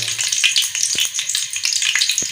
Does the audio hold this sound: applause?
no